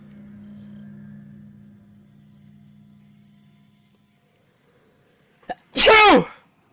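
A single loud sneeze bursts out near the end, close and sharp, after a faint low hum and a brief click in an otherwise quiet stretch.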